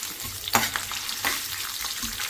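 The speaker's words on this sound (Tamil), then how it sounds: "நல்லா பொரிச்சு எடுத்துக்கலாம்." Pirandai (adamant creeper) frying in a pan for chutney gives a continuous bright sizzle and crackle, with occasional louder stirring scrapes, close up and with no talking.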